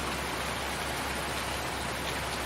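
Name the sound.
rain in Farming Simulator 19 (video game)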